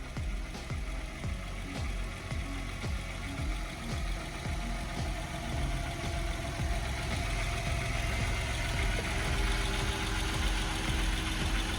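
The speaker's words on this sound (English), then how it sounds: "VR6, the venerable VR6, great little engine." A VW VR6 engine idles steadily with the hood open, a continuous low, even rumble with faint ticking, close and alone with no talk throughout.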